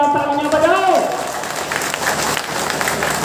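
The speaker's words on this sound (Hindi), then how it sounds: "उनके लिए भी जोरदार तालियां बजाओ।" A crowd at a political rally claps for the seated journalists, a broad wash of applause that starts under a speaker's amplified voice and carries on steadily after the voice drops away.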